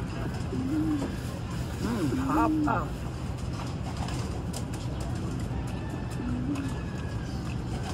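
A few soft coos from racing pigeons in training rise over a low outdoor hum, with someone speaking briefly nearby.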